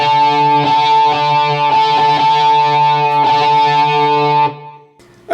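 Distorted electric guitar strumming through effects, sounding thick and loud with repeated chord strokes in a steady pulse. It rings close before cutting off near the end.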